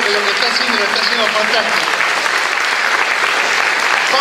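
Loud, dense applause from the audience at an orchestra show, continuous clapping that fills the whole stretch evenly and close up.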